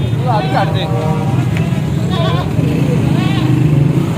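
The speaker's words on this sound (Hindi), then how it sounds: "ट्रैफिक बहुत जाम है मुल्तान रोड के ऊपर" Heavy jammed traffic on Multan Road in Lahore near a livestock market: a steady, dense rumble of engines with scattered horn toots and animal bleats, loud and continuous from start to finish.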